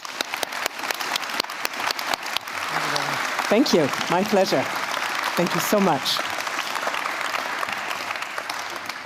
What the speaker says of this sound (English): You may now return to your seats after you get a round of applause.